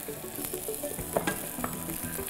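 Mushrooms frying in a pan give a steady sizzle with occasional soft pops and light stirring scrapes, close and continuous without any voices.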